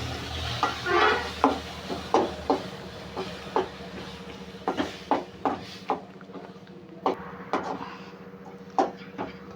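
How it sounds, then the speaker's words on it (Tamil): Mango pieces for a parai fish curry sautéed in a pan, with a spoon stirring in irregular scraping strokes over a steady low background hum, close and moderately loud with no talking. "இப்போ வந்து ஒரு கைப்பிடி அளவு மாங்காய் போட்டு வணக்கலாங்க."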